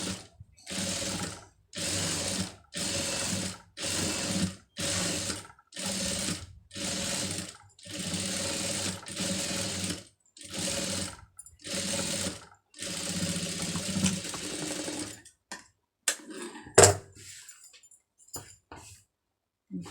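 A sewing machine stitches through an added layer of fabric in loud, steady bursts of rapid needle chatter. Brief pauses separate each run, and near the end the stitching gives way to a few scattered handling knocks.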